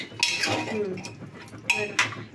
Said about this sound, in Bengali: দেখি দেবের নাড়াচাড়া করছিস